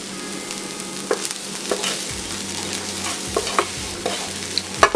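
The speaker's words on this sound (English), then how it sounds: "Okay, so we're gonna add in the browned meat and the onions." Browned ground beef and onions are tipped into a slow cooker for a hamburger tater tot casserole, giving scattered close scraping and clattering from a spoon, with moist thuds and a soft sizzle-like hiss, no talk.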